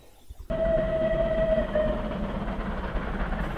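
A train passes as a radio-drama sound effect at a railway junction set at night, a loud sustained rumble with a steady whistle tone that starts abruptly and holds, fading slightly toward the end.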